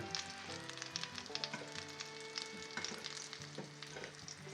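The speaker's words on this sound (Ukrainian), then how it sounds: "Смажиться." Oil sizzles and crackles steadily as zucchini fries in a pan, with faint clinks and scraping from stirring, under a background of music with no voices.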